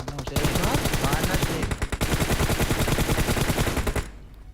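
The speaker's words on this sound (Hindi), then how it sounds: "क्योंकि अब भी गोली चल रही थी वहाँ" Gunfire in the mobile game BGMI (PUBG Mobile) comes as a loud, sustained automatic burst of rapid shots that cuts off abruptly near the end.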